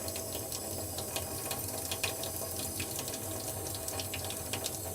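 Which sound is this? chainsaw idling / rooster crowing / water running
water running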